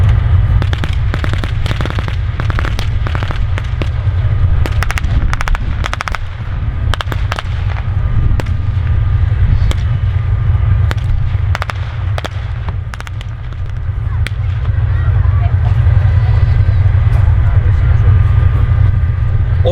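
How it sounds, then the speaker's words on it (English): A Warrior armoured vehicle gives fire support during a battle demonstration at a tank show arena, with a loud, steady engine rumble under rapid, irregular bursts of sharp gunfire cracks and pops throughout. "dismount and carry out a section attack with the warrior acting as fire support."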